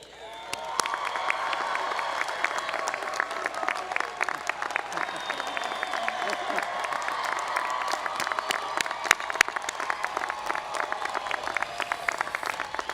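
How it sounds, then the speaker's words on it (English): At a Chico State university commencement ceremony, a large crowd breaks into steady, sustained applause for faculty and staff, dense clapping heard from a distance with occasional cheers throughout. "Graduates, please join me in a great round of applause"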